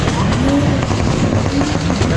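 BMW cars revving hard and doing burnouts at a car meet, a steady loud roar of engines and tire noise filling the whole stretch without pause.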